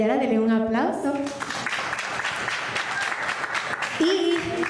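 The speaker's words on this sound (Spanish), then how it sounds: "Acá está Israel Yara, denle un aplauso." Applause from a live studio audience rises over fading music and runs steadily for several seconds at moderate loudness, with a voice speaking briefly near the end.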